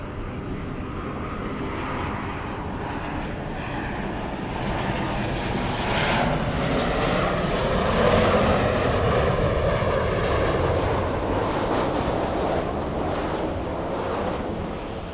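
A Southwest Boeing 737 MAX 8 taking off from Los Angeles, a loud, sustained jet roar that swells and holds steady as the airliner climbs away, with no voices.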